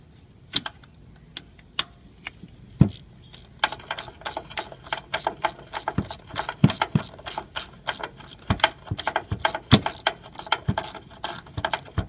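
Rapid ratchet clicking while tightening bolts on the fuel pump of a 1981 K10 truck, sharp close ticks in quick irregular bursts, sparse at first and then dense and steady, with no talking.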